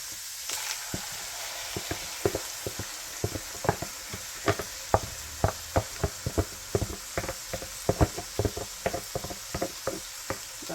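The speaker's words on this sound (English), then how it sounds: "I have the ground beef all cooked up, and I want to add the sauce. I have that simmer for a while" Cooked ground beef simmering in sauce in a pan gives a steady sizzle, with regular scraping and clacking as it is stirred throughout, close by, with no voices.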